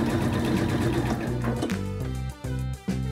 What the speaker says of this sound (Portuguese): E daí segue em frente costurando, ó.